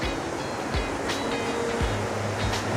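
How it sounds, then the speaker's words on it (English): Ocean surf rolls in at Fitzroy Beach in New Plymouth, a steady close wash of breaking waves with low rumbling swells, no voices. "So I must be getting a little bit of surf in there."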